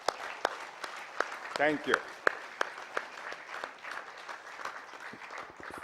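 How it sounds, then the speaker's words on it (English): Scattered, sparse claps ring out from a small audience at a Federation of Indian Publishers honoring ceremony, sounding as distinct individual slaps rather than a dense roar, with brief speech heard among them. "I'll request all of you to join with me with big applause for them"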